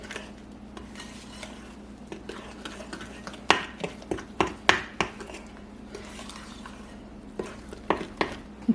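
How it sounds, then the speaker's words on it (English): A spoon or whisk scrapes and clinks against a bowl as flour is worked into satsuma orange cake batter, with irregular sharp taps that cluster into quicker bursts over a low steady hum. "we're just going to mix this on down and incorporate all the flour"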